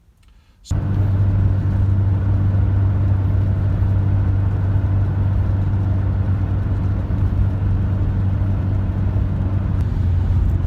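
After a brief quiet start, a Mitsubishi Shogun Sport engine hums steadily at 2,000 to 3,000 revs, loud and even, like cruising inside the vehicle.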